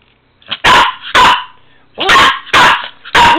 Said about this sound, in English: Yes, you're an incredibly noisy dog.